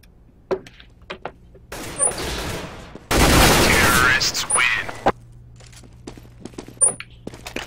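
Counter-Strike: Global Offensive gunfire, a sustained burst of automatic shots followed by scattered sharp cracks and footsteps, loud and close, with game sounds in between.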